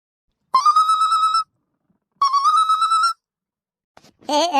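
A cartoon mobile phone ringtone plays as two separate bursts of bright, buzzing electronic melody with short silences between them, followed by the start of a harsher tone at the very end.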